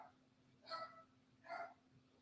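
A dog barks twice in the distance, two short faint yelps about a second apart over a steady low hum, in a home during a sports discussion.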